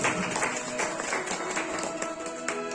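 Audience clapping at a Bhagwat Katha religious discourse in Barmer, a dense burst of hand claps from a gathered crowd, loud and continuous for a few seconds with no talk.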